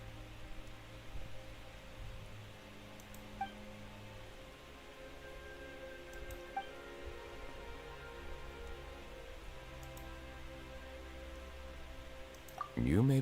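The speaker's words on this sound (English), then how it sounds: "Why is it raining all of a sudden?" Rain starts suddenly in the game Genshin Impact, a steady, soft hiss of falling drops that continues throughout, with faint game sounds and a brief burst at the end.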